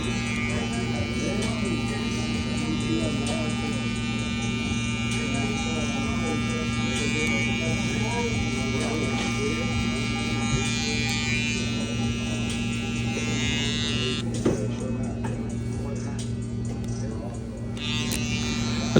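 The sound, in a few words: Oster hair clippers trimming a drop fade guideline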